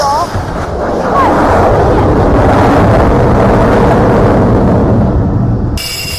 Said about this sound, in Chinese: 起飞的一架歼十五战机啊，离我们山东舰航母甲板越来越近了，马上准备着舰